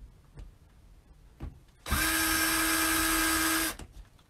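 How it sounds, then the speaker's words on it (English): A power drill boring a hole in wood, starting abruptly after a few faint knocks and whining loudly and steadily for nearly two seconds before cutting off, close by and with no talking. "you need to drill a hole down in here"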